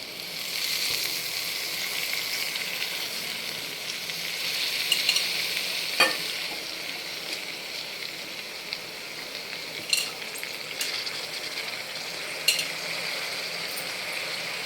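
Gongura leaves go into a simmering mutton curry, producing a soft continuous sizzle with occasional clinks and scrapes of stirring, quiet and steady throughout.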